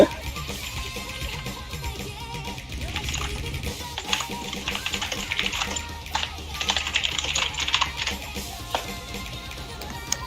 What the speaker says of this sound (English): Extreme typing ASMR from Alison.